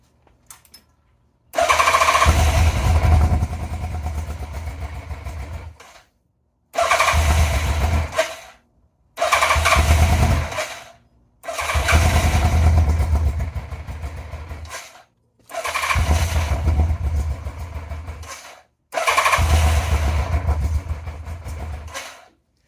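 A 1987 Yamaha FZR 1000 Genesis motorcycle cranks and runs in six loud, close bursts, each a few seconds of rough engine noise cut off by short silences as it keeps stalling and restarting.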